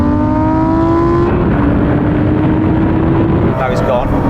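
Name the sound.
cars accelerating in a rolling drag race, Lamborghini Performante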